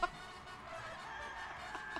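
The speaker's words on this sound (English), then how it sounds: "Oh my god, the chicken again!" A chicken clucks in the video game Guacamelee 2, a steady stream of clucking calls over layered game music, with a few brief accents near the start and end.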